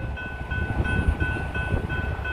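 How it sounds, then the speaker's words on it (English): A Union Pacific manifest freight train passing, a loud continuous rumble with a faint steady tonal whine and rhythmic wheel noise. "But we got another train, and I'm not sure which one this one is, but it looks interesting."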